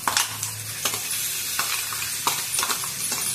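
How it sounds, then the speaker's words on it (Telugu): Mashed brinjal chutney going into a hot pan of tempering with dried red chillies, curry leaves and asafoetida, giving a loud, continuous sizzle with scraping stirs and a few light clinks, with no talking. "తాలింపు అయిపోయింది. పచ్చడి వేస్తాను."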